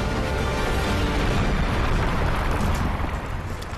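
Explosions in the video game Crysis 3 make a loud, continuous roaring rumble that fills the moment, easing slightly toward the end without any clear separate blasts.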